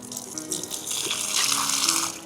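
Water pours steadily as an offering to the sun during a morning prayer at home, a continuous splashing gush that swells toward the end, with faint background sound and no speech.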